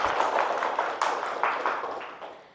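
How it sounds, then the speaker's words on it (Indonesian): A classroom of pupils claps along in a quick, fairly even rhythm of close, moderately loud claps that taper off toward the end. "Tepuk tangan dulu biar kita semua semangat."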